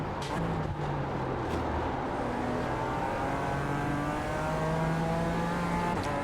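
A Toyota GR86 races around Mugello in a racing video game, its engine droning and rising through the revs, with a gear change and other cars close by, loud and steady throughout.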